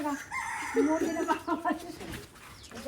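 A rooster crows once, nearby and fairly loud, its call rising and trailing off, with some faint background noise around it.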